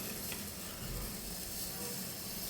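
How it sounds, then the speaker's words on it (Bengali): Chicken fries in a pan with tempered spices, giving a soft, continuous sizzle and hiss at low volume with no clear breaks. "এবার আমি মাংসটা দিয়ে ভালো করে কষিয়ে নেবো চিকেনটাকে"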